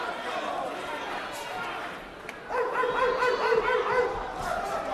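Boxing fans at an IBF light middleweight title fight in Mexico bark like dogs, a rhythmic chorus of human voices imitating barks rising from the arena crowd beneath a commentator's speech.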